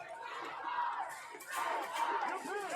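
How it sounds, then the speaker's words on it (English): At a high school baseball playoff game, a crowd chants a player's name in two loud rising bursts of massed voices, close and lively, with a short gap between them. "The crowd chants his name."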